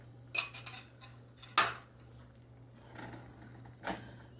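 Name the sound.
eggs being moved around in a pan for an omelet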